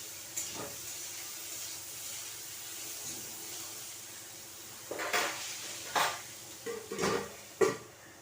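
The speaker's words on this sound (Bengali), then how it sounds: "এবার আমি পেঁয়াজ কুচানো, লঙ্কা কুচানোটা দিয়ে দিচ্ছি। এটা একটুখানি হালকা ভাজা ভাজা করে নেব।" Chopped onion and green chilli fry in a kadai with a soft, steady sizzle, broken by several sharp clinks and scrapes of a spatula against the pan.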